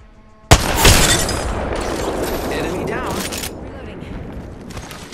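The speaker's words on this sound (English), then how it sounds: "I'm taking shots." A sudden loud blast opens a stretch of heavy gunfire and explosive booms in the video game Apex Legends, with the din slowly thinning out while a voice talks over it.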